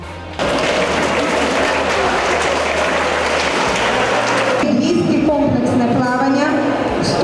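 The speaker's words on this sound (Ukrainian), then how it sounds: "гучними оплесками спортсмени привітали план плавчиню львів'янку Софію Лесняк" Applause from a crowd at a swimming competition in Lviv greeting a swimmer: a broad, steady roar of clapping starts abruptly and holds loud and dense throughout, with a voice speaking over the latter part.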